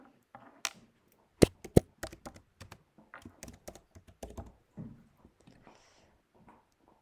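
Keyboard typing while a group name is entered in a school spelling and maths web app: a run of sharp, close key clicks in an irregular rhythm, a few louder taps early on, then the tapping thins out toward the end, with no talking.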